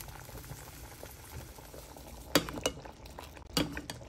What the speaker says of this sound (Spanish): Ya una vez que nuestra salsa esté hirviendo, ya está lista, ya la vamos a apagar.